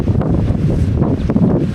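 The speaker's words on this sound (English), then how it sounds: "today that north wind is absolutely blowing a hoolie down through this glen." Strong north wind gusts through a Scottish glen on a rainy hike, buffeting the microphone with loud, rumbling low roar that swells and dips in quick surges.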